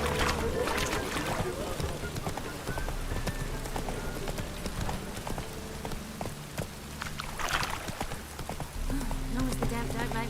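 Hooves clip-clop steadily from a horse ridden through rain in The Witcher 3 near Novigrad, a continuous rhythmic trot over patter of rainfall, with voices speaking over it.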